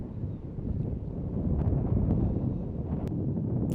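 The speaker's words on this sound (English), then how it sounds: "when the wind is blowing that hard" Strong wind blows across a disc golf course in Waco, a heavy, low buffeting roar against the microphone that swells and stays steady, with a few faint ticks on top.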